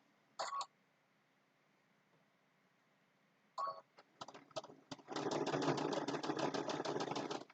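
A domestic sewing machine stitches a quilted Christmas table runner seam, with two short bursts followed by a rapid, steady mechanical chatter of needle strokes, close and clear in a quiet room.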